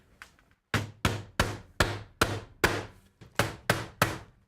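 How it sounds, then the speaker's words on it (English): About ten sharp hammer blows drive 1¼-inch galvanized roofing nails through asphalt shingles into the roof deck. The strikes come in a steady, close rhythm with brief pauses, and no one talks. "Now I just nail it in place. Now these are just 1¼ galvanized roofing nails."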